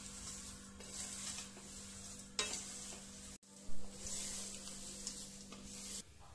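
Crunchy poha chivda is stirred in a pan in soft, dry rustling scrapes under a faint steady hum. Louder stirring bursts come at irregular moments, and a brief dropout falls midway.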